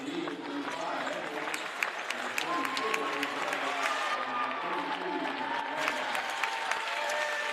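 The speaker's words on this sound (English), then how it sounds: "Schaefer, Einhorn, and Tharp head out of the ball game to the applause of the standing Newton Eagles fans" Standing home fans of the Newton Eagles applaud steadily in a high school basketball gym at a holiday tournament, a dense continuous wash of clapping with scattered louder claps and faint crowd murmur throughout.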